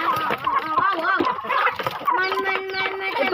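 Backyard chickens clucking busily while being fed rice, several hens close by with overlapping short clucks and a drawn-out call, a voice talking intermittently among them.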